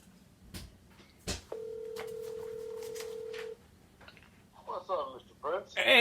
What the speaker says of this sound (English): I'm going to go ahead and see if I can get Stitch Duran here on the phone